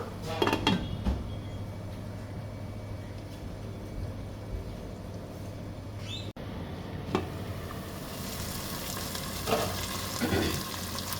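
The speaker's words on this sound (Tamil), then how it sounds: "சால்ட் உப்பு நம்ம கொஞ்சம் சேர்த்து தூவி கொஞ்சம் வதக்கி விட்டுக்கிறோம்." The base for Ambur chicken biryani sizzles softly as it is sautéed with salt, with clinks and scrapes of a spoon against the pot and a brighter sizzle toward the end.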